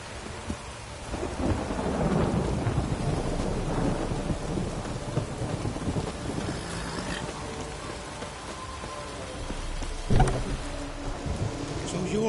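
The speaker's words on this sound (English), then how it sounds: "A storm, damn it." Steady rain pours throughout a thunderstorm in the Witcher video game, with deep rolling thunder swelling early on and a sharp, loud crack near the end.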